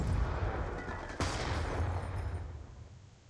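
Sticky grenade blast and gunfire in Call of Duty Black Ops 2 multiplayer, a sharp explosion cracking through about a second in over a steady bed of rumbling battle noise and scattered shots that slowly fades.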